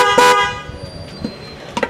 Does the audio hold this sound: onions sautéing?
no